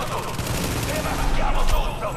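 Sniper fire from the video game Tom Clancy's The Division comes as a dense run of loud shots and blasts. Faint voices are mixed into the gunfire.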